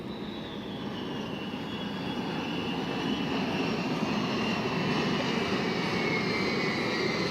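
A B-2 flying wing bomber passing overhead at a beach air show, a loud steady jet roar that swells slightly as it nears, with a broad rushing hiss and a faint high whine running throughout.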